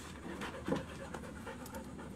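A dog panting softly in quick, steady rhythmic breaths, close but faint against a low background hum, with no talking.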